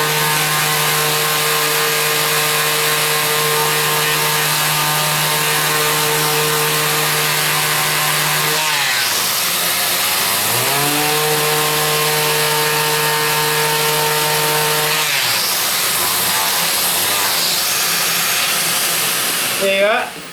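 A power tool polishes wood with a loud, steady electric whine that droops in pitch twice as pressure is applied and then recovers, running continuously close-up without pause.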